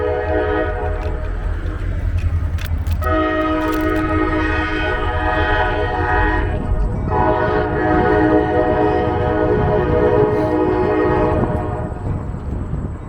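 A train rumbles past close by in Trenton with a steady roar and sustained horn-like tones that shift pitch partway through.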